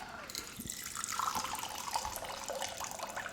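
Tap water runs steadily into a sink while a cocktail shaker is rinsed, a continuous close splashing hiss with small clinks and no talking.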